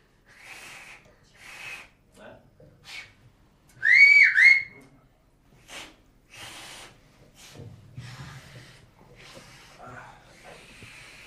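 A man in a comedy series practices a whistle, producing a short, loud two-part sliding whistle in the middle of quiet breathy sounds and scattered soft vocal noises.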